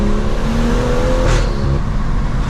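A BMW M240i accelerating, heard from inside the cabin as a steady, loud engine drone with rising and sliding engine tones and a brief whoosh partway through.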